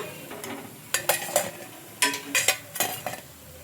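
Snacks frying in oil in a kadai, with several distinct metallic scrapes and clinks of a ladle turning them in bursts over a soft, steady sizzle close by.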